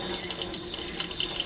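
Tap water runs steadily from a faucet over a lump of color-changing slime, a close, constant hissing splash filling the whole moment with no voices.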